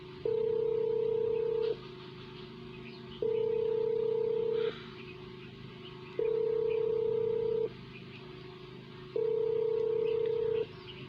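A phone call rings in on a talk radio show, a steady electronic ring tone sounding four times in regular bursts of about a second and a half with even gaps, over low studio background noise and no speech.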